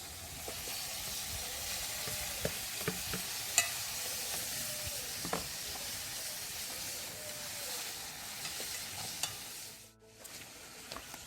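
Ackee fries and hisses in a pot over an outdoor fire, with a steady sizzle throughout and scattered scraping clicks as it is stirred.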